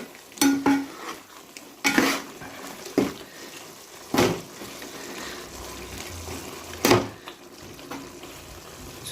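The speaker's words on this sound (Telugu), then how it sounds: "ఎవరెస్ట్ చికెన్ మసాలా అయితే తీసుకున్నాను ఒక ప్యాకెటు ఇప్పుడు ఇట్లా కలుపుకోవాలి" A spoon stirs Everest chicken masala through a green chicken curry in a pan. The thick, wet scrapes come in irregular strokes about every second or two, close and fairly loud, over a faint sizzle, with no voices.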